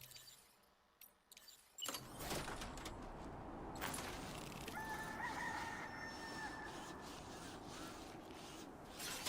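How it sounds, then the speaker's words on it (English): A rooster crows from a mountaintop in the video game Death Stranding 2, a distant call set within a wide, steady wash of outdoor ambience that rises after a quiet opening. "I just hear a chicken crow on the top of this mountain."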